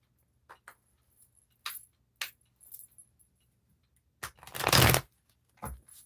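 Tarot cards being shuffled at close range in short papery bursts, with a longer riffling shuffle near the end and quiet gaps between, no talking.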